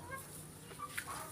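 Native chickens and roosters clucking faintly on a small farm, a few soft clucks and calls heard at a distance over a quiet background.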